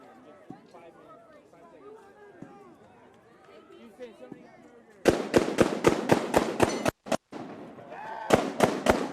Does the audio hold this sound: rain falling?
no